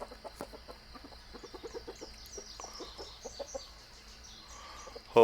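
Chickens cluck in a yard while sorting out their pecking order, with soft scattered clucks and short calls at moderate distance and a louder burst near the end.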